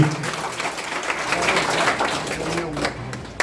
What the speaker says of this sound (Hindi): एक बार जोरदार तालियां उनका